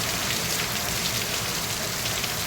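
Steady heavy rain drumming on a corrugated iron roof, a dense continuous patter that is loud and close throughout.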